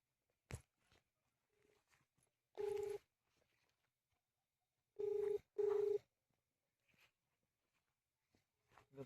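A phone call rings out unanswered as three loud ringback tones sound, one alone and then two close together, over a near-silent background with a few soft knocks.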